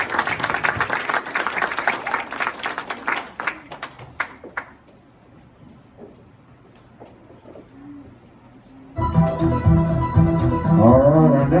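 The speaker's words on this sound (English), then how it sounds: "So let's give Jacob a round of applause." Audience applause for a candidate at a children's martial arts black belt event, a dense burst of clapping that thins out and fades over several seconds, then gives way to louder mixed room noise.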